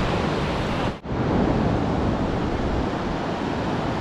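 Steady, loud rush of surf washing continuously at Ngalur Beach, Tulungagung, with a brief dip near the start before the broad roar of waves resumes.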